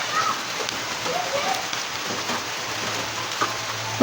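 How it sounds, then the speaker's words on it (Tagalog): Steady rain falling outdoors in the Philippines while sticky rice biko is being cooked, a constant soft hiss with faint scattered drops throughout, some light kitchen noise and a brief clatter near the end. "sakto maulan dito sa amin."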